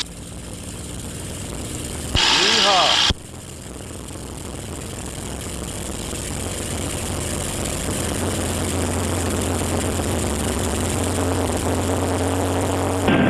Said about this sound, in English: Good engine, here we go.